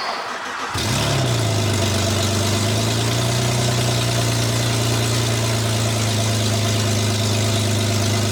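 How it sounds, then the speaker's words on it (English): Car exhaust with only headers fitted fires up on a cold start and settles into a loud, steady, raw idle close by, a brief starter whir giving way to a constant deep drone. "I'm going to see what the exhaust sounds like with just the headers on it"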